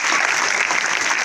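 An audience at a school quiz event breaks into dense, sustained applause, loud and close, with many hands clapping steadily.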